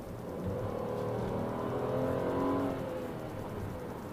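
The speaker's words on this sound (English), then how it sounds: "the engine in this actually also makes a really good sound" A 2017 Chevrolet Impala Premier's V6 engine revs up in a smooth, throaty rise and eases back down, heard on its own at moderate volume.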